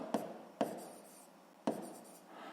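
Three quick strokes of hand writing during a sixth-grade maths lesson, close and fairly quiet, each a sharp scratch with a short trailing stroke, no talking over them.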